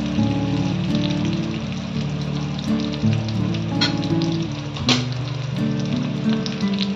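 New potatoes fry in a pan for dum aloo with a steady, close crackling sizzle, under background music and a few sharp clinks.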